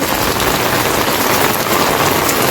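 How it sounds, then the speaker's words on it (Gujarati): Heavy rain pours down in a dense, loud, unbroken roar of drops close at hand. "તમે બહુ વરસાદ આવે છે આમ"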